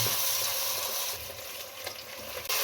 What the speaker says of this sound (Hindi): अब मसाले को इसके अंदर अच्छे तरीके से भून लें।